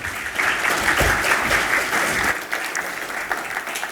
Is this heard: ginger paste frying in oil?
no